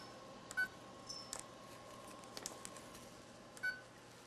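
Short electronic beeps from a kitchen timer being set for a cake going into the oven, a few separate chirps spaced apart over a quiet room background.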